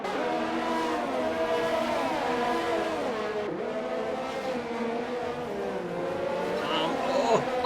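Formula-style race cars in a Singapore Grand Prix racing game scream past in a close pack, engines whining and shifting pitch as one brakes hard behind a McLaren, with continuous loud engine tones throughout.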